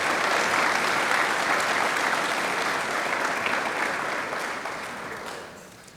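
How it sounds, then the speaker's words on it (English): A crowd at a high school football media day gives a coach a big round of applause, a dense steady wash of clapping that fades out toward the end. "one more big round of applause for Coach Harrington."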